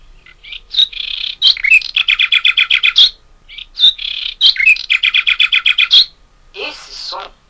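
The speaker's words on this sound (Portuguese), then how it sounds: "Esse som é um som agudo. É o som do rouxinol." Loud, close birdsong: two repeated phrases of rapid, evenly spaced high notes with sharp whistles, then a shorter buzzy trill.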